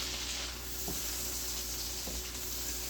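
Halved cherry tomatoes sizzle steadily in a hot pan while cooking for Tuscan butter salmon, giving a continuous frying hiss with a couple of faint soft stirs, close and without speech.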